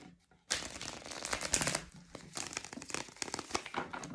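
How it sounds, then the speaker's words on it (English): Tarot cards being shuffled by hand, a dense papery riffling and slapping that starts abruptly after a short pause and runs on steadily, close and fairly loud. "let's do a couple of shuffles"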